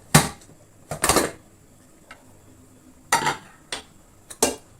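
A pressure cooker of toor dal is opened after its whistles, with several short bursts of metallic clanking and rattling of the lid and pot, separated by quiet gaps.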